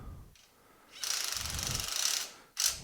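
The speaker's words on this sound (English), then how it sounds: "Put your 13mm on the flange nut on the bottom." A ratcheting socket wrench with a 13mm socket snugs flange nuts on the lower mounts of an ATV brush guard for a Tracker 600. It gives a quick clicking burst, then a longer steady run of ratchet clicks and a final short burst, close and clear.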